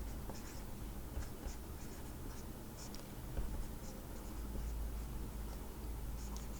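Pen or pencil scratching across paper in a steady run of short strokes, close and fairly quiet, with no voices.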